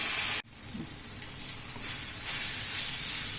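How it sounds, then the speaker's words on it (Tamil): Chopped onions sauté in a hot pan for a chana masala, giving off a steady, close sizzle that dips for a moment near the start and then builds slightly; no one speaks. "அதில் இது நல்லா வதங்கட்டும்."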